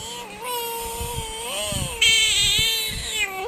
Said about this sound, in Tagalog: Baka pusa!